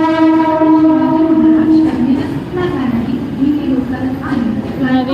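Train pulling into platform four at a station, a loud sustained horn tone fading into rumbling wheels and carriage noise as it arrives, with a public-address voice speaking over it.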